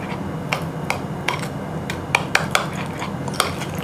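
Whisk clinking against a bowl while mixing a gochujang sauce mixture, light irregular metallic taps at close range with no talking.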